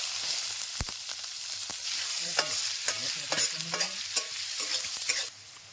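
Onion goes into hot oil with ajwain and fennel seeds in a village kitchen, giving a steady sizzle with a spoon scraping and stirring through it in close, irregular strokes.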